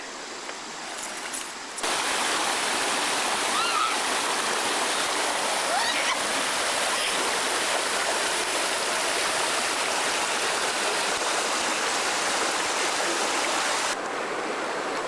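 A river rushes through the Appalachian Mountains near old ruins, a steady, close and loud roar of flowing water that swells in abruptly after a quieter opening and holds evenly before easing slightly at the end.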